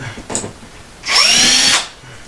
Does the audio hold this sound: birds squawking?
no